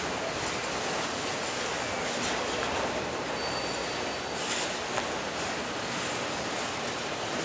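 Steady broadband rumble and rolling noise of a freight train backing up slowly nearby during switching at Crewe yard, continuous throughout with a faint high squeal of wheels on rails.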